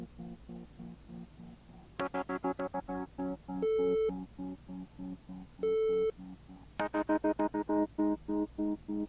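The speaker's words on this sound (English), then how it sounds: "Sounds like Morse code." Morse code signal in the mobile detective game Detective Mimo, loud rhythmic electronic beeps in short rapid pulses, broken by two longer sustained tones, alone without talk.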